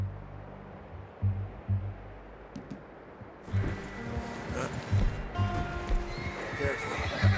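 A horse in Red Dead Redemption 2 whinnies loudly, with hooves clip-clopping in a steady rhythm, and a voice briefly speaks over it.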